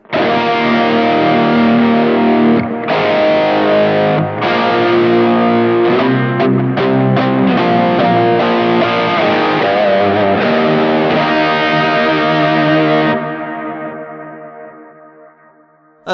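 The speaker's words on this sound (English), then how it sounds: "I'm using the mouse distortion, and also adding in a really big dotted eighth delay" Sustained heavily distorted electric guitar chords through a Kemper mouse distortion, with a big dotted-eighth delay placed before the distortion echoing behind, ringing out and fading at the end.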